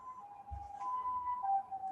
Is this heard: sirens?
yes